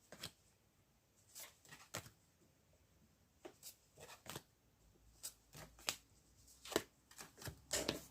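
Tarot cards are shuffled for a reading in irregular bursts of crisp riffling and slapping, each lasting a fraction of a second, with short quiet gaps between them, close and fairly soft, with no voice.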